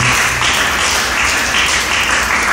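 A church congregation applauds loudly and continuously, a dense wash of many hands clapping together at close range for the whole stretch, with no talking.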